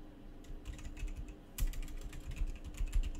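Someone types steadily on a computer keyboard nearby, producing quick, uneven clusters of crisp key clicks with brief pauses between bursts.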